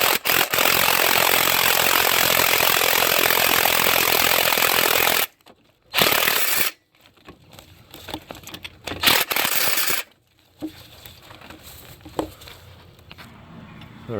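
A cordless power tool works a long starter bolt on a 2017-2020 Nissan Rogue 2.5L, a loud close whirring burst for about five seconds, then short intermittent bursts and quieter clanks of tools.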